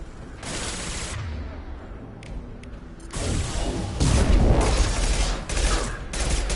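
Gunfire in the Mass Effect 2 video game, bursts of rapid shots and heavy impacts in clustered volleys, loud and close, with mechanical clicks between them.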